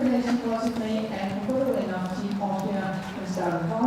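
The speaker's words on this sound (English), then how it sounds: "This is a super horse. Having a little bit of a look at the trade stands as he goes around the edge." A horse at a para dressage world championship clip-clops around the arena edge near the trade stands, its hoofbeats soft and steady beneath continuous commentary.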